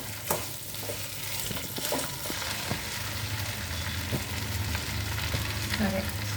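Crushed garlic cloves fry in hot oil for jackfruit pickle, giving a dense, continuous sizzle up close with occasional stirring scrapes and pops throughout.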